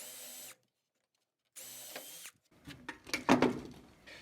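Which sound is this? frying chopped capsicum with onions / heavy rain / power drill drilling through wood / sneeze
power drill drilling through wood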